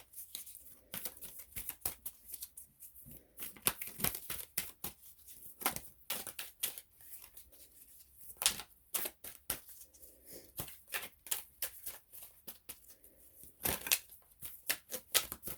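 Cards from a Twin Flame oracle deck being shuffled and one drawn, with quiet intermittent flicks, riffles and slides of card stock in close, scattered bursts.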